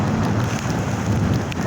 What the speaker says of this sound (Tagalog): abutan kami ng bagyo